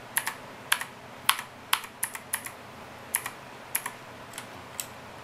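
Keys pressed one at a time on a PLUM RGB keyboard fitted with Gateron Blue clicky switches, giving sharp, close clicks in an uneven sequence of about fifteen presses with short pauses between them.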